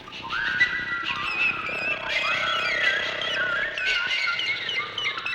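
Several rising and falling whistle tones glide and warble over a soft backdrop, overlapping in a playful, busy stream.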